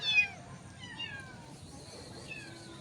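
Aggressive cats meow repeatedly at close range, giving several drawn-out, falling cries one after another over a low background rumble, with faint voices in the background.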